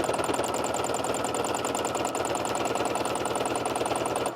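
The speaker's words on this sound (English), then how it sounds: "I'm going to start stitching and get a feel for" A sewing machine running steadily for free motion quilting, with its tension set badly; a fast, even needle clatter and motor hum, close and loud, lasting the whole stretch with no talking.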